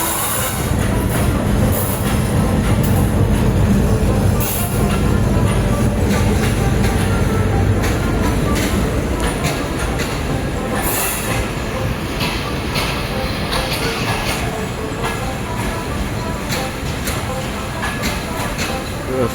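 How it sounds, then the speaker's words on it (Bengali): A long broad gauge passenger train rolls past with a loud, continuous rumble and rhythmic wheel clatter. Occasional metallic squeals rise over the roar throughout. "আরেকটা ট্রেন আইলো, এটা ব্রড গ্যাস।"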